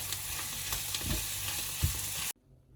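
A Sri Lankan style mud crab curry with mango and coriander leaves sizzles in a pan while a spoon stirs it in scraping strokes, close and steady, then it cuts off abruptly.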